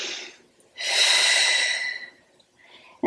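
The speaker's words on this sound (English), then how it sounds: "Another breath." Deep, audible breaths during a Pilates abdominal and glute workout: a soft exhale fading out, then one long, loud breath of about a second and a half, followed by quieter breathing, with no speech.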